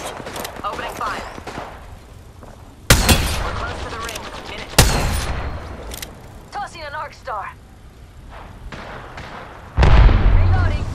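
Video game gunfire in Apex Legends, played as Revenant, comes as several loud sharp bursts spread across the stretch, mixed with game voice lines, effects and a person talking.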